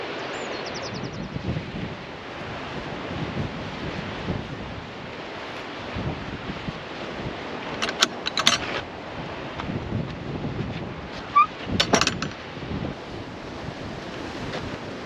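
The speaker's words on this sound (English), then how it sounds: "it's quite windy, so hopefully you can still hear me" Strong wind buffets the microphone on a clifftop coast path near Looe, with surf rumbling below, steady roaring gusts and a few sharper blasts, no voices.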